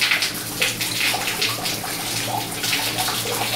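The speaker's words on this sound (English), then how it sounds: "Now the water inside the geyser is draining out." Water draining out of a household water heater geyser during repair, a steady splashing, gushing flow like a running tap, loud and close throughout with no talk.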